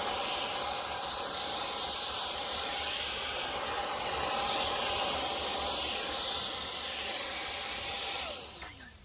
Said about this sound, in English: go ahead and get you a blower and then blow it out